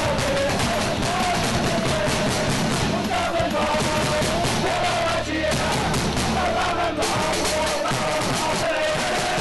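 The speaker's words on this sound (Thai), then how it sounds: "เดินทางมาเหนื่อยแค่ไหนแต่เสียงเชียร์ไม่ได้หยุด" Football supporters of Muang Thong and Buriram cheering in a Thai League stadium, a dense, loud and continuous roar of crowd chanting and shouting that fills the whole scene.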